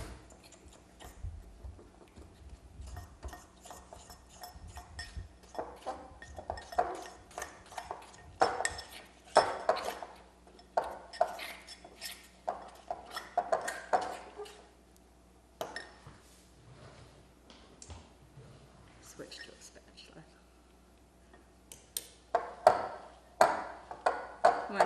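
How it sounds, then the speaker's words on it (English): An egg mixed with a fork in a bowl, with irregular clinks and taps of metal on the dish in uneven bursts, close and fairly quiet, no one talking. "We'll just mix this up with a fork."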